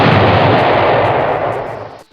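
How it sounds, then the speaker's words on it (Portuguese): A loud explosion in a film scene, a huge close blast with a heavy rumbling roar that holds and then cuts off abruptly at the end. "vemos uma explosão acontecer."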